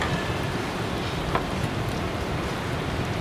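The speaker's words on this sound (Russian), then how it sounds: "Так, мне тут сюда вода уже начала литься." Steady rain pouring down during a test ride of a CityCoco 3000W Skyboard BR70 electric scooter, a constant hissing wash of water, fairly quiet and unbroken.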